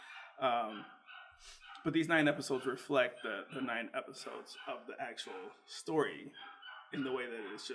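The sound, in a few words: dog barking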